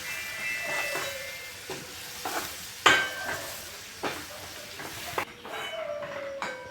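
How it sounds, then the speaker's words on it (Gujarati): A spoon stirs gram flour into fried onions in a pan, giving repeated scraping strokes over a low sizzle with a few sharp clinks of metal against the pan, close up. "ચણાનો લોટ નાખી દો અંદર ભેગો અને બે મિક્સ કરી દો પહેલા"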